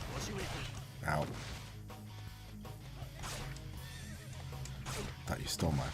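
A horse neighs in the video game Warriors Orochi Z, several loud whinnies standing out amid game clatter and hoof clip-clops, with people talking throughout.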